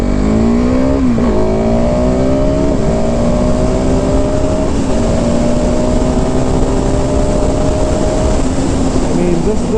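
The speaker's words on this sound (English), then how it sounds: "this bike definitely is geared for the road, but no problem getting up to the quick speeds at all" A 2020 KTM 690 SMC R single-cylinder supermoto, US version, accelerates hard through the gears, its engine note climbing, dipping briefly at a shift, then rising again, loud and close under constant wind roar.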